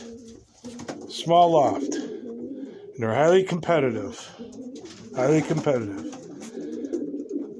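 Racing pigeons coo in a small loft, with three close, repeated rounds of throaty cooing at a steady rhythm, heard under and between a man's speech.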